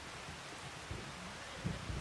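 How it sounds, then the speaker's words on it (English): Steady rain hiss in Farming Simulator 25 during a cotton harvest, a broad even wash of falling rain with a couple of soft low thumps that could be distant thunder. "It is raining."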